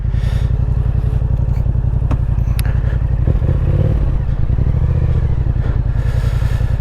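A 2024 Yamaha MT-07 motorcycle with a clutch recall pulling away, its twin-cylinder engine throbbing in a steady loud low pulse close by, with some clatter and light scraping.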